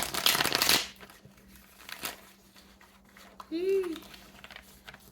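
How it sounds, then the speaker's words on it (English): A crisp riffle of shuffling tarot cards opens, followed by light card taps and a short murmured voice in a quiet room. "Let me make sure I shuffle them a few more good times."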